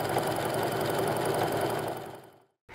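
A sewing machine stitching sashing onto a T-shirt quilt block, a fast steady mechanical whir and needle rattle close by that slows and stops near the end, followed by a brief bump.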